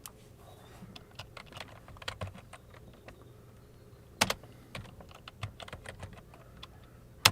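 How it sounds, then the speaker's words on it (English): Keys clatter on a computer keyboard in a quiet room, a steady run of light taps coming in uneven bursts, with a few louder clustered strikes along the way. "I'll type it up here."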